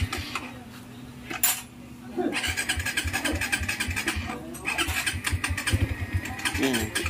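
Suzuki GSX-S motorcycle engine cranking repeatedly without catching, a rapid chugging starter rhythm with metallic rattles, close and fairly loud, with brief quiet gaps between attempts.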